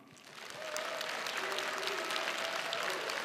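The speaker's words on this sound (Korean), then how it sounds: "김두겸 울산시장에게 다시 한번 큰 박수 부탁드리겠습니다" Applause at a regional forum after the Ulsan mayor's presentation, rising quickly into steady, dense clapping from a crowd at moderate distance.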